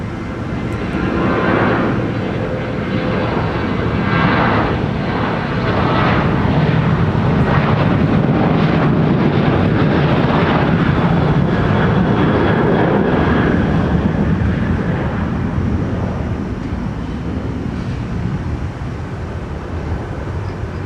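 A Sun Country airliner at Minneapolis–St. Paul Airport makes a loud, sustained jet engine roar that swells and holds for about twenty seconds, a deep broadband rumble with a slight rise and fall as it passes.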